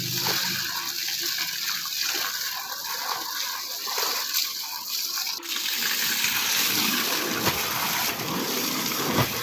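Water splashes and gushes steadily as a kantha quilt is washed in a village, with continuous pouring and sloshing close by.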